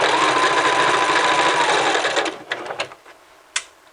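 Sewing machine with a walking foot stitching through two layers of fabric, a fast continuous whirring hum up close that stops partway, followed by a few soft clicks and taps of the machine.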